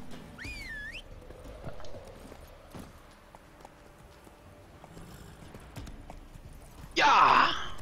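Horse in The Witcher 3 video game: rhythmic hoof clip-clop under a faint game soundscape, a whistle at the start, and a loud whinny bursting in near the end.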